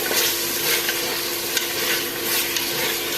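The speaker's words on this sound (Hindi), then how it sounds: "चिकन को हम मसाले के साथ अच्छे तरीके से फ्राई कर लेंगे।" Chicken frying with masala in a pan for a pumpkin (lauki) chicken curry gives a steady, close sizzle with light stirring, and no voices.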